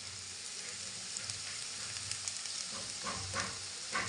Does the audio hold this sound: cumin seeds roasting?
yes